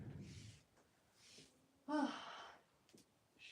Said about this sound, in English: They're just all snoring over there.